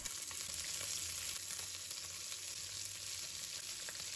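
A sea bass fillet pan-fries until slightly charred, giving a steady, close, even sizzle with faint crackles that runs unbroken throughout, with no voices.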